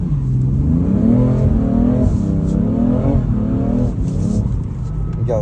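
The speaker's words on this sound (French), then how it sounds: "Accélère, elle va direct partir" A pit bike engine revs hard on acceleration at a track, a loud close buzzing whine that climbs and falls in pitch through several rising sweeps.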